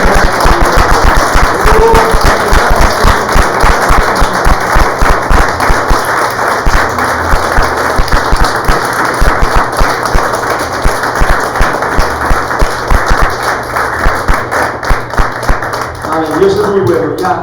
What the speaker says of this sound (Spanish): Dale un aplauso a Cristo esta mañana.